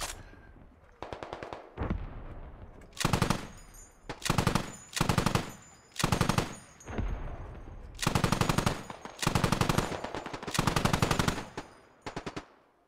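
Loud machine gun fire in the tactical military shooter game Squad, coming in about ten sharp, rapid bursts separated by brief pauses, close and dominant with no voices.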